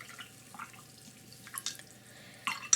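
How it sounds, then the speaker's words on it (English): Paintbrush swished and rinsed in a jar of water while painting, giving soft splashy sloshes and drips in a few brief bursts, fairly quiet and close, with no voices. "We can wash our brush,"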